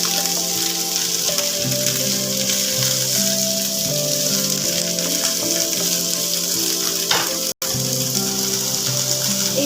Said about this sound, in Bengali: ক্যাপসিকাম দিয়ে এবার ভালো করে আমি এগুলো আলু আর গাজরের সাথে ক্যাপসিকামটা মিশিয়ে নিয়ে ভেজে নেব।